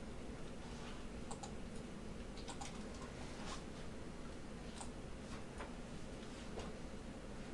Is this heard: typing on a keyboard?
yes